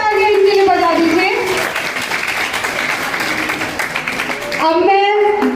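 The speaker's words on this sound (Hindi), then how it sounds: "एक बार फिर से तालियां इनके लिए बजा दीजिए" An audience at a speech competition breaks into loud, sustained applause for someone speaker, the clapping swelling between stretches of amplified speech from a presenter at the start and end.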